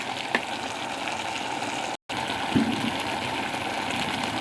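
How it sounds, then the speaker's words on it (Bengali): Water pours steadily into a cooking pot of curry made with potato, radish greens and dried fish. The rush is loud and continuous, broken only by a brief gap, with no one talking. "এখন আমি একটু জল দিয়ে দেবো"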